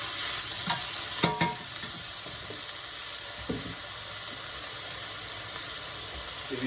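Broccoli rabe with garlic sizzles in a pan as it is stirred, a steady close hiss with a few sharp utensil scrapes and knocks near the start.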